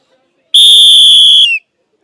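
One loud, close, shrill whistle blast lasting about a second, alone, in a Delhi market at Sarojini Nagar.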